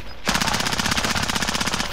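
Rapid automatic gunfire from a battle royale video game rattles out in a fast, continuous burst of closely spaced shots, loud and up front.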